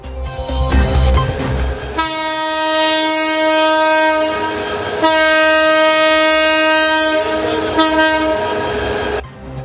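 A passenger train leaving Dhaka sounds its horn in long, loud, close blasts with brief pauses between them, over the rumble and clatter of the moving train.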